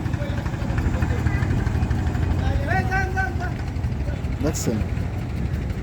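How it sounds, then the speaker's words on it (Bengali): A trawler boat's engine drones steadily and continuously while cruising on the Mongla river, running under a person talking throughout. "এখন আমরা এই ট্রলারে ঘুরতে যাচ্ছি"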